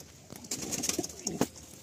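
A lakka fantail pigeon coos in a few soft, throaty bursts at close range, among light rustling, with no talk.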